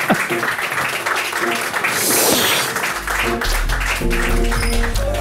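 An audience at a talk show applauds steadily, a dense wash of clapping that swells midway, with talking and music rising over it toward the end.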